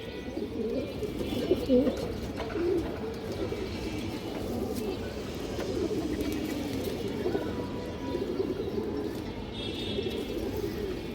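Purple-coloured pigeons, one wearing fixed leg tags, coo in a steady, overlapping murmur close by, with brief chirps mixed in over a continuous low background.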